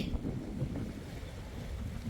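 Strong wind blows at a riverside in Ubon Ratchathani, Thailand, buffeting the microphone with a constant low rumble and gusty roar, with no one speaking.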